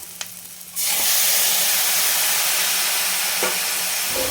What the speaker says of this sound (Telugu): ఇప్పుడు అల్లం వెల్లుల్లి పేస్ట్ వేయాలి ఇవి బాగా కలపాలి ఇప్పుడు టమాటాలు వేయాలి